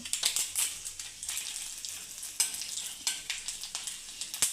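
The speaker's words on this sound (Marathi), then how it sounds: "खडे मसाले भाजून घेऊ थोडेसे भाजून घ्यायचे खडे मसाले" Whole spices roasting in hot oil in a pan for Khandeshi sev bhaji, crackling and sizzling with repeated sharp pops and stirring scrapes, close and steady, no voices.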